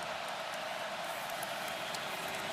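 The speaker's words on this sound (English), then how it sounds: "And this predominantly Clemson crowd making noise" A largely Clemson crowd at the 2018 ACC football championship game against Pittsburgh roars steadily, a dense and continuous wash of stadium noise with no break, sustained through the third-and-11 play.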